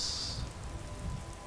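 Steady rain falling in the video game Skyrim, a continuous soft hiss and patter across the whole stretch, with no voices over it.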